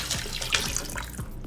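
Water poured into a pot of chicken stew, a steady close splashing stream that runs throughout.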